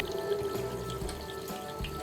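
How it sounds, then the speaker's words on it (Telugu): Tap water running steadily over a pressure cooker in a kitchen sink, a faint continuous splashing and trickling stream with a light hum underneath. "వాటరు కుక్కర్ ట్యాప్ కింద పెట్టాలి."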